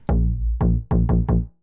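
A synth bass patch in FL Studio sounds a held low note, then four shorter repeated notes in quick succession, each a full, harmonically rich tone with a firm attack, loud and alone.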